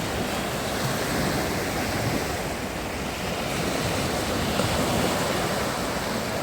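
Sea waves wash onto the shore at Odesa in a continuous roar of surf, loud and near, swelling and easing slightly with some wind buffeting the microphone and no talk.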